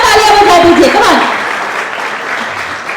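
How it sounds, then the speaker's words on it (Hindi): At a Realme 14T phone launch, an audience claps while a voice speaks over the start, and the applause carries on steadily once the talking stops. "चलिए एक और बार तालियां बजा दीजिए."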